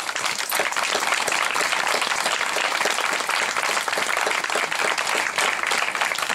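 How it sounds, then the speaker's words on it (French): A parish congregation at a pastoral back-to-school gathering applauds its young people with sustained, dense clapping from a large crowd, steady and full throughout with no break. "Je vous prie d'applaudir tous nos jeunes ici."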